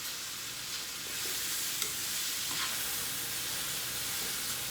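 Food for a home meal prep dish simmering and sizzling steadily in a pan, a constant close frying hiss with a few faint stirring scrapes and no talk.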